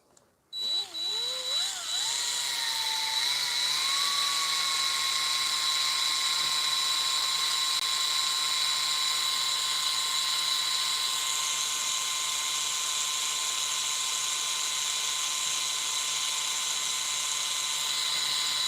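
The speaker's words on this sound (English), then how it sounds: "I'm gonna continue" A high-pitched drill boring into metal spins up and holds a steady, piercing whine for a long stretch, loud and continuous with no talking.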